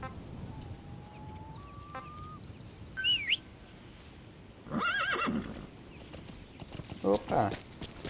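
A horse whinnies in a rising, wavering call amid Metal Gear Solid V: The Phantom Pain game ambience in the Afghanistan wilderness, with a brief bird-like chirp earlier and faint hoof clops.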